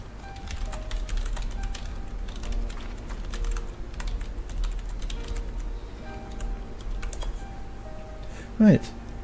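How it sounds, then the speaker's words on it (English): Fast, continuous clatter of computer keyboard typing during a Final Fantasy XIV game session, dense and close, with a voice speaking over it and a brief louder knock near the end. "This is rapid typing."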